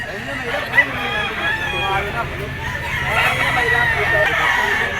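A fighting-cock stag, a black Talisay with yellow legs, crows at a gamefowl pet market, its drawn-out calls rising over a steady hubbub of nearby voices and crowd chatter.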